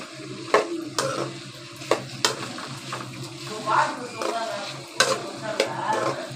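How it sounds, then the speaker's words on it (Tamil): Okra sautéed in a pan with oil, mustard seeds, onion and tomato: a soft sizzle under repeated sharp scraping and clinking strokes of a spatula against the pan, close and moderately loud. "வெண்டைக்காய் போட்டு நல்லா வதக்கி எடுத்துக்கலாம்"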